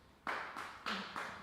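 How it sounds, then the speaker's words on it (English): Scattered audience applause at a climate convocation, a few distinct clap bursts in quick succession, fairly close and with no talking over them. "I appreciate the applause"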